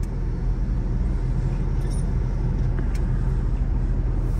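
A Scania truck loaded to about 21 tonnes drives and turns around on a road, a steady loud low engine rumble and road noise running throughout without a break.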